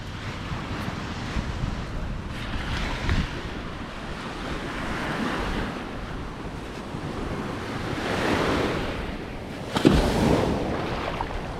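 Ocean surf rolls in continuously on Miami Beach right after a hurricane, a broad, loud wash of breaking waves mixed with heavy wind buffeting the microphone, with a few stronger surges.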